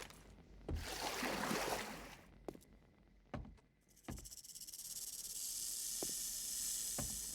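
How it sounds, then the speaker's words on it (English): Snake hissing inside a mine in the survival game 7 Days to Die, a faint breathy hiss under a steady low hum, broken by a few soft thuds and clicks. "I hear a snake, but I do not see one."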